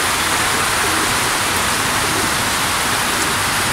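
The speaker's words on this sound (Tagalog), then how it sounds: "Ah, inabot ng ulan." A heavy downpour roars outdoors in a continuous, thick wash of rain with no letup, close and loud throughout, where homing pigeons are expected to return.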